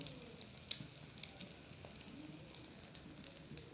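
Slices of egg-dipped bread fry in a pan for a bread omelette, a soft, continuous sizzle with small crackles and pops, fairly quiet and close.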